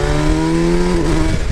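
A Kawasaki Z700 motorcycle rides past on a street in the Netherlands, its loud engine tone holding steady and then dropping in pitch as it goes by, close and alone.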